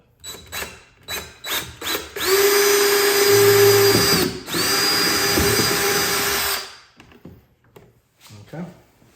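A power drill bores a pilot hole into a plastic kayak hull while mounting a fish finder, a loud steady whine running about four seconds, briefly stopping and restarting, with short talk before and after.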